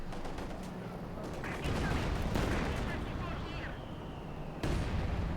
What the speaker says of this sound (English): Almost cleared up with the heavy mortar.